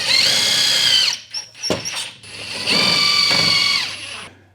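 A power drill drives screws through a wire holder into a cement sheeting wall in a garage workshop, two loud close bursts of whirring separated by short pauses and a few brief spins.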